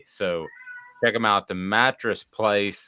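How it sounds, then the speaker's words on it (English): A pet cat meows loudly indoors, several drawn-out, tonal calls, while someone talks over and between them. "That was my cat."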